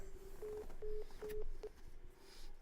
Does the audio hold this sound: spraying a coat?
no